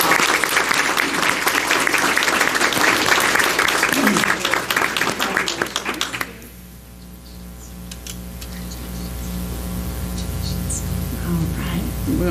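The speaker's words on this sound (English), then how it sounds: "Let's give them a round of applause." Dense audience applause for about six seconds, then it cuts off abruptly, leaving a quiet room hum with faint ticking.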